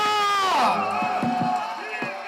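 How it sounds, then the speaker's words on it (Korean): A crowd at a political rally in Incheon cheers, shouts and whoops loudly and continuously, with voices rising over the din. "여러분 큰 박수와 함성을 부탁드립니다"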